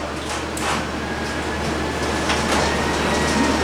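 Door of a paint spray booth opening with a low sliding rumble and hiss, loud and steady, over constant ventilation-fan noise in a guitar workshop.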